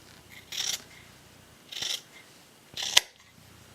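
Scissors snip through old T-shirt fabric, cutting it into half-inch strips for a garland: three separate crisp, close cuts spaced about a second apart, with quiet pauses between them.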